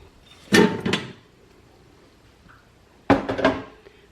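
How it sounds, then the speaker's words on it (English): An air fryer basket holding potato wedges slides into the fryer: two short clattering knocks, then a pause, then another pair of clunks as the basket seats, close and clear with no talking. "So I have the wedges in the basket. I'm gonna just put them in."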